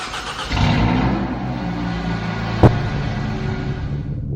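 In a 3D Driving Class driving-test game, a car engine cranks and catches about half a second in, then settles into a loud, steady idle, with a sharp click partway through.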